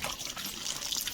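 Tap water runs steadily while aloe vera foam is rinsed off, making a continuous close hiss of flowing water with no break.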